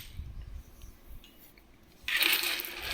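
Uncirculated 2020 Indian ten-rupee coins from the Hyderabad mint pour out of a broken packet in a sudden bright, jingling metallic clatter after a quiet stretch, close and sustained to the end.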